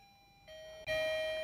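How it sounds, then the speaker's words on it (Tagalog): An F21 smart lock's doorbell chime rings two clear electronic tones in a rising ding-dong, the second louder and sustained, close and alone. "pag may nag-tap ng doorbell sa smart lock"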